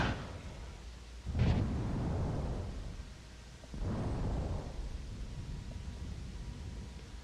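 Artillery in World of Tanks fires two heavy, rumbling booms about two seconds apart, each swelling and then fading into a low, sustained roar. The sound is deep and distant, with no talking.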